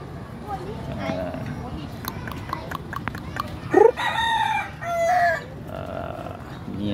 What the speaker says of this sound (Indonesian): Ni dia nama ayam dia. Pekin Bantam.